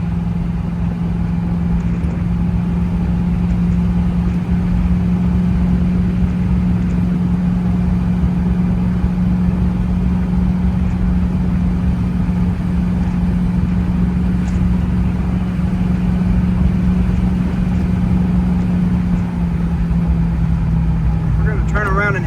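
A 1968 Chevrolet Camaro convertible RS engine runs with a steady, even low hum that holds throughout, with faint voice-like sounds in the background.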